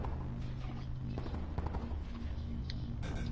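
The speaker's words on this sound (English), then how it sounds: "I hear gunshots. I hear gunfire." Video game gunfire, faint scattered shots and short bursts popping in and out over a busy, noisy background, with a voice partly audible.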